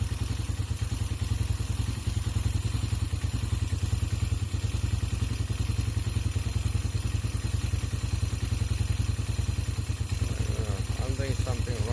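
A motorcycle engine idles steadily up close at about 236, after a carburetor re-jet and exhaust overhaul, with a rapid, even chugging pulse throughout; a voice speaks briefly near the end.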